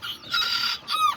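Aztec hens and roosters, with a few short, bright clucks and squawks from chickens at close range, in quick succession over about a second.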